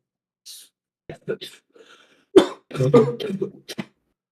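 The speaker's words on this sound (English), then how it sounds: "Are you coughing as well?" A few short, harsh coughs and throat-clearing bursts from someone close by, separated by brief pauses.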